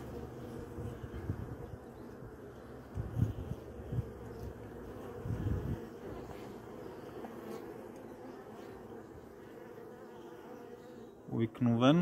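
Honeybees buzz around an open top bar hive during an April inspection, a steady close insect hum with a few louder passes as bees fly near.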